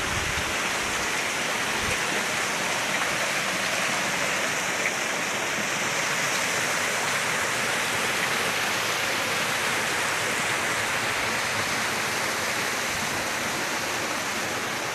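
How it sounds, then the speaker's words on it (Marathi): Natural monsoon waterfalls at Gupt Linga near Shikhar Shingnapur give a constant, dense rushing roar of falling water. It is loud and unbroken for the whole stretch, with no voices. "या ठिकाणी तयार झालेले धबधबे नैसर्गिक असे"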